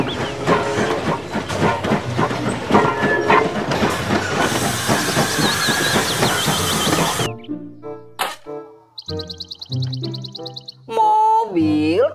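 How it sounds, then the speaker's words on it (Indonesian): A Thomas toy train runs with rhythmic clicking and hissing steam-like effects, followed by toy whistles and jingly electronic tones, with a voice speaking briefly near the end. "Kereta Thomas."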